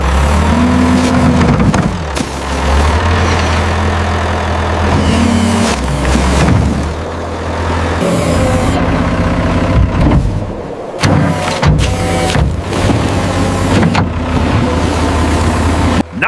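Bulldozer clearing heavy snow at a farm near a barn doorway, its engine droning loud and steady throughout, with revving surges and low mechanical rumble as it pushes and scoops snow.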